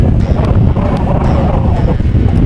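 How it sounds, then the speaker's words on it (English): Strong gusting wind at a Miami beach buffets the microphone, producing a loud, constant low rumble with no break. "but it's fucking windy, so I'm not sure if I'm gonna be able to use my drone"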